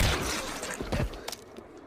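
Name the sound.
gunshot in Pride and Prejudice and Zombies film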